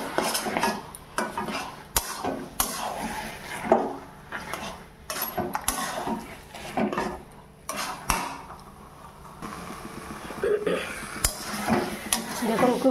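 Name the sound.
spoon mixing spices and greens in a bowl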